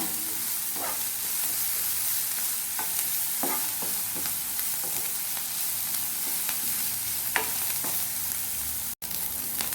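Vegetables for Schezwan fried rice sizzle steadily in a hot pan, a constant frying hiss broken by scattered clicks and scrapes of stirring, close and with no one speaking.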